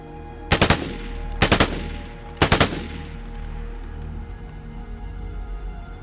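An M16 rifle in the game Vigor fires three short, sharp bursts of rapid shots about a second apart, each burst loud and close, followed by a low ambient hum.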